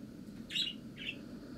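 Bird in the Ultimate Fox Simulator 2 video game gives two brief, faint chirps about half a second apart over a quiet low background.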